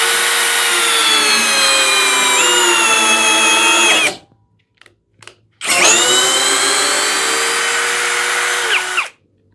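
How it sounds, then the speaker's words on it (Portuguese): A Hanabi Black LB cordless screwdriver drives a screw into pine wood: a loud, steady high-pitched motor whine runs for about four seconds, stops with a few faint clicks, then whirs again at full strength. "vai conseguir fazer aqui esse aparafusamento nessa madeira de pinos"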